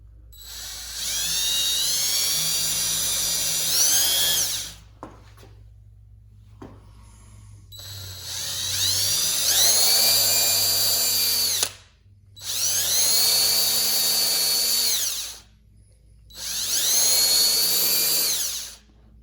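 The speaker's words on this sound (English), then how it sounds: "Now I'm going to attempt to try to drill a hole down the center of this." A power drill whines loudly in four long bursts separated by short pauses, its pitch shifting as it bores down the center of a metal rod, close by.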